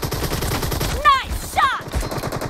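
Rapid gunfire rattles through a PUBG Mobile match in steady bursts, with two brief chirping tones rising above the shots partway through.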